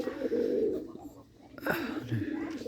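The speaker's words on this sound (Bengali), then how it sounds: "এক জোড়া গিরিবাজ ডাকতেছে অনেক সুন্দর ডাকতেছে কবুতর জোড়া" A pair of Giribaz pigeons coo nearby in soft, low throaty bursts, mixed with other sounds around the loft.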